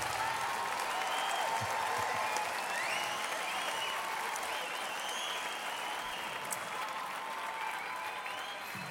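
A concert audience applauds a performer during his 2013 Los Angeles show, sustained clapping and some cheering spread across the hall, fairly distant and steady, with a few whistles rising above it.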